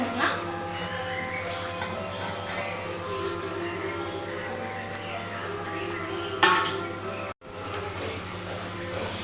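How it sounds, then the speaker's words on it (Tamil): Chicken is added and mixed in a cooking pan, with scattered light clinks and scrapes of a utensil over a steady kitchen hum. A louder clatter comes near the end. "நம்ம இதில் வந்து சிக்கன் ஆட் பண்ணிக்கலாம்"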